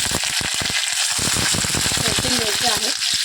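Fresh curry leaves hit hot oil in a pan for spicy tomato chutney, giving a loud continuous sizzle and crackle with brief stirring clatter, close up, while a voice talks underneath.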